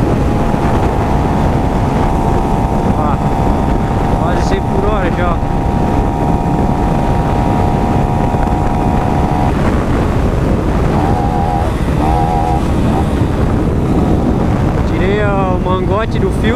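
Honda Pop 110i motorcycle with a modified air filter intake, engine droning steadily while riding, heavily buffeted by loud wind noise across the microphone, with faint tonal whines and a voice speaking intermittently.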